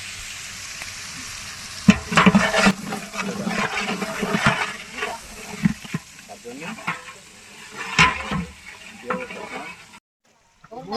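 Spices with sour yogurt and nut paste being stirred and fried in a pot for tehari, with scraping strokes and a steady sizzle, loud and close, broken by brief pauses.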